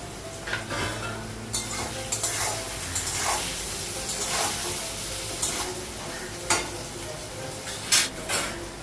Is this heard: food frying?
yes